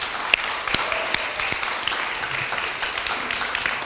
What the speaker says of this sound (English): So a round of applause for all our candidates tonight.